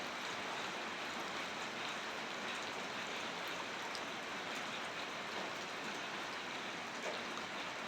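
Rain falls steadily at night, a constant even hiss of drops on surfaces with no voices, faint and unchanging throughout.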